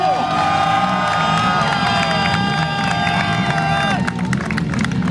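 A crowd cheers and shouts at the ceremonial start of the 2011 Wales Rally GB, loud and sustained, with a public address voice and music carrying over the noise.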